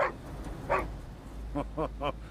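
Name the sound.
dog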